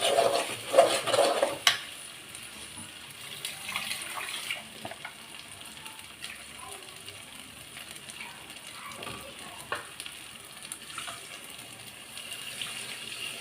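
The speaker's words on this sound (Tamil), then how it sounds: "மிக்சியை கழுவி ஊற்றிட்டேன்." Water runs and splashes while a mixer grinder jar is rinsed out in a home kitchen, with a few clinks of the jar near the start, then a softer steady trickle continuing alone.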